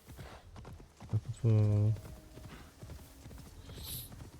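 A horse in the video game Assassin's Creed Shadows gives a brief, clear burst of hoof clip-clops and a short whinny-like call. A person speaks French over the sound.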